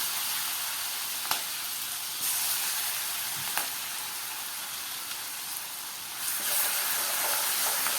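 Steady sizzling of turmeric, asafoetida and chilli-ginger paste frying in hot oil over medium heat, a broad crackling hiss with a few brief clicks from stirring, close and continuous.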